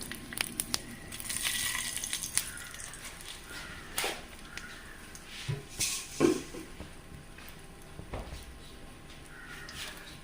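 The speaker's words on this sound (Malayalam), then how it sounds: "ഇനി നമുക്കതിലേക്ക് കുറച്ച് കടുക് ഇട്ട് കൊടുക്കാം. നമുക്കൊരു 2 വറ്റൽമുളക് ഇട്ട് കൊടുക്കാം." Mustard seeds and two dried red chillies hit hot coconut oil and give an intermittent crackle and sharp pops over a soft sizzle, close and moderately loud.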